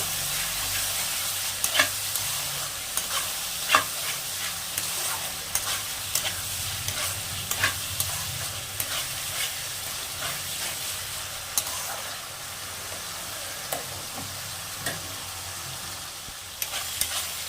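Shahi garam masala and spices sautéing in a pan for mutton masala, a steady close sizzle and fry with scattered scraping stirs and clicks throughout.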